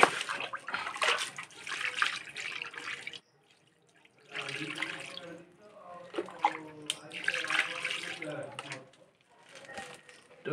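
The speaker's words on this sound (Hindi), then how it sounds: "और पानी में भी धो देते हैं।" An egg that had been buried in the ground is rinsed under running water, splashing and trickling in several bursts separated by brief pauses, close by.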